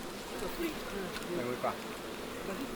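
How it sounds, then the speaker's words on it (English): Bees swarm around a wild hive dug open for a honey harvest, giving a faint, continuous close buzzing over soft background noise, with a few brief louder passes. "We've got bees landing all over us."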